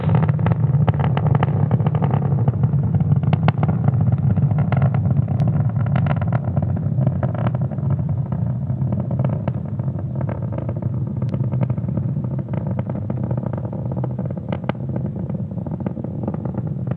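A SpaceX Falcon 9 rocket climbing past supersonic speed on a Starlink launch from Florida gives a steady, loud, broadband low roar. It rumbles on without a break for the whole stretch, with no voices over it.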